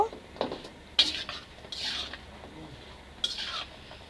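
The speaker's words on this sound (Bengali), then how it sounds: "এবার আমি পটলগুলোকে ভেজে নিব।" Pointed gourd pieces coated in salt and turmeric are tossed in cooking oil in a large pan. Close metallic scrapes and utensil clinks come in a few separate bursts over a quiet background, with no talking.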